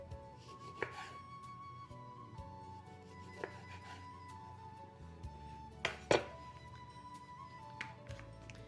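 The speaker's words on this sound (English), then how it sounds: "slice them in about 1/4 inch slices" A knife slices an orange crosswise on a cutting board, giving a few quiet, scattered cuts and taps against the board with soft rubbing in between.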